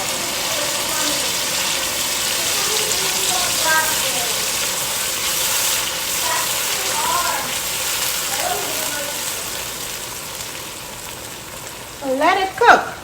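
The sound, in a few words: blended tomatoes, onions and garlic frying in pot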